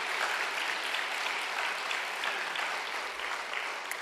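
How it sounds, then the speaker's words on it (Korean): Steady congregational applause fills a church during a Wednesday service, a dense even clatter of many hands clapping from start to finish with no voices over it. "응원과 격려의 박수 부탁드립니다"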